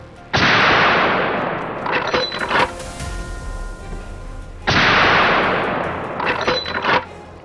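Two loud rifle shots fired while hunting in a deep forest, each a sharp blast followed by a long, rolling echo that fades out between the reports.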